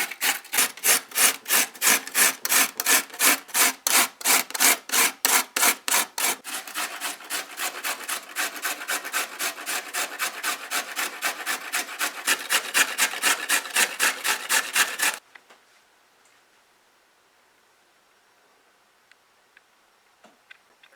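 Peeled carrots rubbed hard against a grater in a fast, steady rhythm of rasping strokes, close and loud for about fifteen seconds, then stopping to near silence with a few faint ticks.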